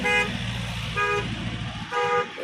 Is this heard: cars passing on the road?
yes